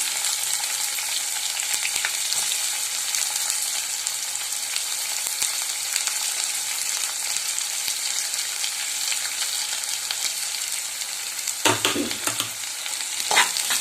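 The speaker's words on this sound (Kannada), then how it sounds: "ಚಿಕ್ಕದಾಗಿ ಹೆಚ್ಚಿಟ್ಕೊಂಡಿರೋ ಕರಿಬೇವು ಮತ್ತು ಈರುಳ್ಳಿಯನ್ನು ಇಲ್ಲಿ ಸೇರಿಸ್ತಾ ಇದ್ದೀನಿ" Chopped onion and curry leaves fry in hot oil for a tempering with a loud, continuous hissing sizzle, close up, and a brief stirring clatter near the end; no one speaks.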